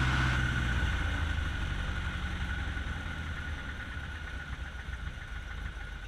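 A Piper PA-18 Super Cub's small piston engine idles steadily with a low, even drone and a faint whine, slowly settling slightly quieter, no voices.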